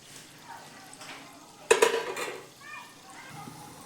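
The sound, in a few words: frying rava gulab jamun in hot oil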